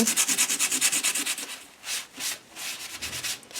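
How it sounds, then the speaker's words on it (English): Coarse sandpaper scrubs rapidly back and forth across a paper clay heart, a close, loud rhythmic rasping that slows into a few longer, separate strokes, with no voices. "I'm going to bring in some coarse sandpaper and just file down some of the larger bumps."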